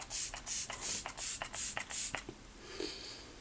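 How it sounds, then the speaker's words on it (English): A hydrating setting mist is sprayed over the face and around the eyes in about six quick, even, hissing puffs close to the mic, followed by a softer rustle. "I just take it, and I spray all the way, go around, over my eyes"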